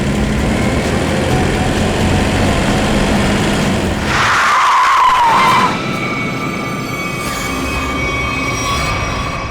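A car skids to a sudden stop, its tyres letting out a loud squeal that lasts under two seconds over a steady, noisy road background.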